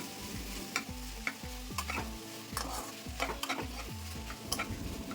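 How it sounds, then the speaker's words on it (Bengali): Deboned bhetki fish is stir-fried with onion, garlic and green chilli. A utensil scrapes the pan in repeated, rhythmic strokes over a continuous sizzle. "পেঁয়াজ রসুন কাঁচা লঙ্কার সাথে ভেটকি মাছ খুব ভালো করে মিশিয়ে কষিয়ে নেব"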